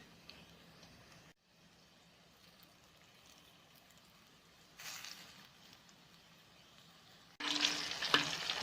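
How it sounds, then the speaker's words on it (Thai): Pork wontons deep-frying in hot oil give off a steady crackling sizzle that swells louder and brighter toward the end, close and continuous with no talk. "นี้เราก็ค่อยๆทอดให้มันเหลืองนะคะ"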